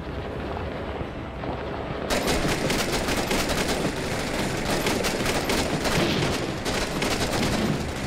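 Dense, sustained gunfire in the Six Days in Fallujah combat game, quiet at first and then erupting into continuous overlapping bursts of rifle and machine-gun fire that stay loud and close for the remaining seconds.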